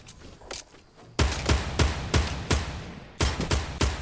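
Rapid gunfire from a video game shooter during a tense late-round fight, with a sparse burst of shots followed by a loud, steady run of sharp reports about every third of a second, close and punchy, with no talk over it.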